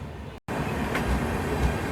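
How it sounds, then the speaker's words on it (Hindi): An express train, the Kakinada Port–Sainagar Shirdi Express, rolling past on an Indian railway line near Latur Road Junction, a loud steady rumble with wheel noise heard close up from another train, briefly cut out near the start. "यहाँ ऑफिशियली हमें ओवरटेक पड़ चुका है काकीनाडा पोर्ट साईनगर शिरडी एक्सप्रेस का"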